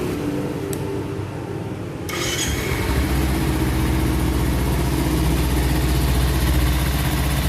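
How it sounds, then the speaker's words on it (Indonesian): A used motorcycle engine cranks and fires up about two seconds in, then settles into a steady, close idle that carries on to the end. "Ini suara mesinnya seperti ini."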